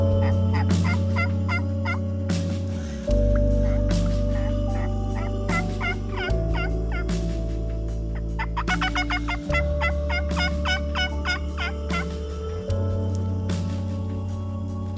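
Wild turkeys gobbling in a Missouri field, loud repeated gobbles in bursts over sustained tonal music with a low droning bed, no speech.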